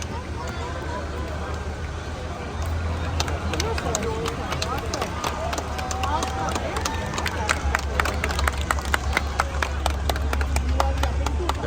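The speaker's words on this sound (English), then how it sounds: "The crowd is very happy." Large outdoor crowd at a National Day drone show in Bishan, a dense continuous murmur of many voices with scattered claps and bursts of cheering, steady and fairly loud throughout.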